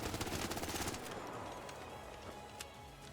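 The Bobcat gun in Arc Raiders at level 1 fires a rapid burst of close, loud shots in the first second, then the noise fades into a lingering echoing tail with a faint later pop.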